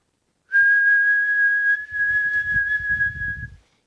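A person whistles one steady high note with lips pursed in a tight O, held clear and close for over a second, then breathy, airy attempts follow.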